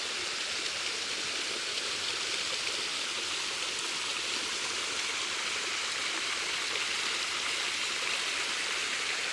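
A waterfall roars steadily nearby, a dense, unbroken hiss of falling water that holds at an even level throughout with no voices.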